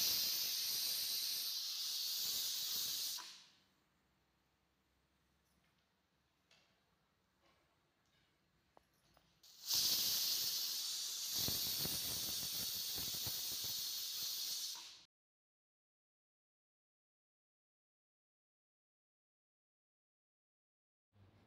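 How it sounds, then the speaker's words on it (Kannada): A pressure cooker cooking dill rice with lemon lets out loud, steady steam hisses, one burst of about three seconds, then a quieter gap with faint ticks, then a second long hiss of about five seconds before silence. "ಈಗ ಕುಕ್ಕರ್ ಲಿಡ್ಡನ್ನು ಕ್ಲೋಸ್ ಮಾಡಿ 2 ವಿಸಿಲ್ ಹಾಕಿಸಿಕೊಳ್ಳಿ."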